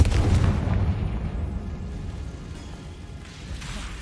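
A Confringo fire-spell explosion in Hogwarts Legacy lands as a loud, deep boom. The rumble then fades gradually over several seconds into a quieter tail.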